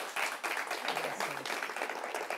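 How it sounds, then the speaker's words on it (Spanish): A studio audience gives a warm round of applause to welcome a guest onto an interview show, with loud continuous clapping of many hands sustained throughout. "queremos recibir con un gran aplauso y con mucha alegría"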